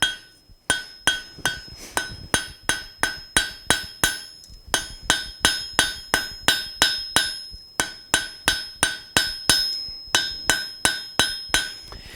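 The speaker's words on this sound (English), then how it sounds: "I'm going to come in with light taps and continue to actually solidify that end." A blacksmith's hammer striking hot iron at a light welding heat on the anvil, loud close ringing taps in quick regular runs of about seven to nine blows, separated by brief pauses.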